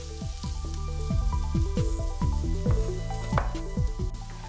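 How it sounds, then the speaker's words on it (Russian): Steady knife chops cubing carrots on a cutting board, a quick irregular run of thuds over a background sizzle of vegetables in a hot pan. "Морковку тоже нарежем крупными кубиками."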